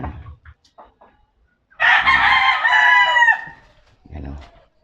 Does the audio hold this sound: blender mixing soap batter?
no